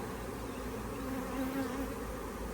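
Honey bees swarm around a hive, making a dense, steady buzzing hum that stays close and continuous, with no voices.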